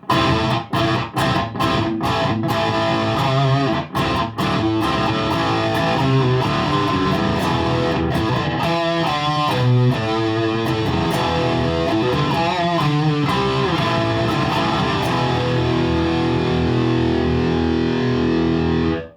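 A heavily distorted electric guitar played through a Boss Metal Core ML-2 pedal plays chunky, gain-soaked riffs with a thick low end, loud and continuous throughout with no voices.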